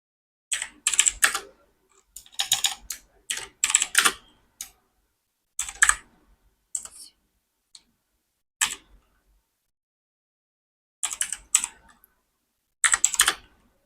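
Typing on a computer keyboard comes in short bursts of close, crisp key clicks separated by silent pauses.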